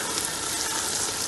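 Beef broth poured into a hot frying pot of cabbage jollof rice, making a steady, loud sizzle and hiss that runs unbroken.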